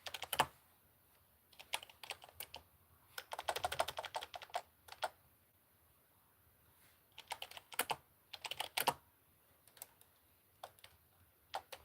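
A computer keyboard is typed on close up in quick bursts of crisp key clicks, separated by short quiet pauses.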